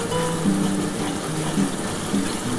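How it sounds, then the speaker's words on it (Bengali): Water is poured into fried spice paste for a tilapia fish curry (jhal) in a pan, giving a steady splashing, sizzling wash that runs about two and a half seconds, with no talk. "এবার আমি কিন্তু সামান্য অল্প একটু জল দিয়ে দেবো।"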